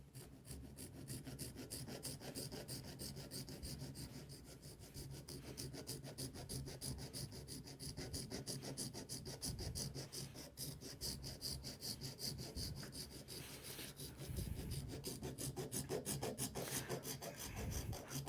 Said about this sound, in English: I put this stick of ebony in a vise, and using a round wood file,